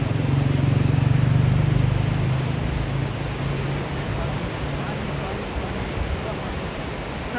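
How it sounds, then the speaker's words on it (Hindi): Fast, muddy river in flood with snowmelt from the mountains above a high village, a steady close roar of rushing water that stays loud and broadband throughout with no pauses. "पानी में आपको दिखाता हूँ कितना खौफनाक पानी है"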